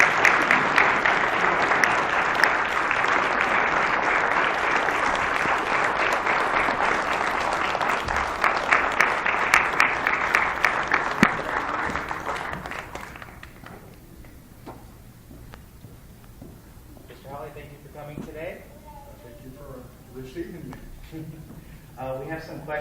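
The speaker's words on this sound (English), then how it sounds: "Give him a round of applause." A school audience at an academy bursts into loud, dense applause that holds for about twelve seconds and then fades out, giving way to a voice speaking in the quieter room.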